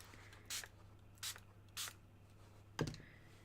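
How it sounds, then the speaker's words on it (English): Four short bursts of water mist hiss from a spray bottle, three evenly spaced and a fourth after a pause, quiet and close in a calm room during painting. "I'm going to spray it in that direction this time."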